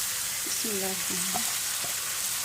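Steady sizzling of boiled potato and shredded chicken frying in a pan, with a few faint scrapes as it is stirred; no voices, the hiss running evenly throughout.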